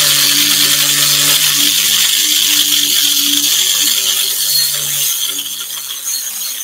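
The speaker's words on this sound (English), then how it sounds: "So a little flopping grinder is great for this sort of thing." A small flap grinder sharpening a garden tool, a loud steady whirring grind with a faint hum beneath, easing slightly toward the end.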